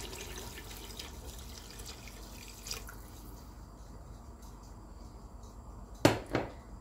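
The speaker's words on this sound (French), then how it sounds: "Donc on rajoute de l'eau chaude." Hot water pours into a pot of Moroccan harira soup, a soft continuous liquid stream with faint drips, ending in two sharp clinks of a utensil or pot, close and quiet with no talk.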